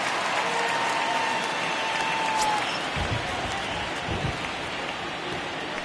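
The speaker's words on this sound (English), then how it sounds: "Well, that rain is really coming down right now." Heavy rain pours steadily in MLB The Show 19 during a Yankees vs. Red Sox game, a dense loud hiss that fills the whole clip with no break.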